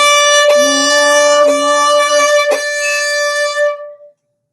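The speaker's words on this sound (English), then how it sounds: "a little more weight in your bow stroke as you're pulling and pushing the string." A single sustained bowed string note swells gradually from soft to loud, heavy bow weight, with a few bow changes audible along the way before it stops and rings out briefly; close and solo.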